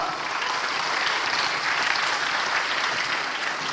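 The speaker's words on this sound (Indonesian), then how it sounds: "Kita berikan aplaus untuk Pak Lo." Audience at an Indonesia stock exchange investor event applauding, a dense, steady clatter of many hands clapping throughout, fairly loud and close, with no voices over it.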